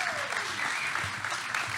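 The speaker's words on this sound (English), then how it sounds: "Give him a big round of applause, folks." Dense, steady applause from an audience at a Chiefs happy hour gathering, filling the room at close range for the whole stretch, with faint voices mixed into the clapping.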